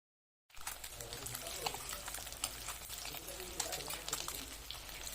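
Eggs rubbed with turmeric, salt and chilli powder fry in hot oil in a wok, a steady close sizzle and crackle that starts abruptly after a brief silence, with quiet talk at moments.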